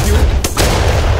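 Near-simultaneous gunshots in an online battleship game, a single loud broadband burst partly masked by continuous game noise and rumble.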